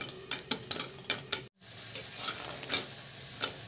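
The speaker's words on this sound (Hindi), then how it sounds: "अब बरी को डाल के इस तरह से हम लोग को इसमें हल्का फ्राई कर लेना है, रोस्ट कर लेना है।" Bari lentil dumplings roasting in a few drops of hot oil in a kadhai, stirred and turned with a ladle, giving sharp metallic taps and scrapes over a light sizzle, broken by a brief pause.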